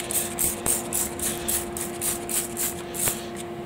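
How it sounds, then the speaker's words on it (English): Leak test solution is sprayed onto a wood gasifier in quick, evenly spaced hissing bursts, about a dozen in a row, over a steady low mechanical hum. "Here we're going to spray here on the inside"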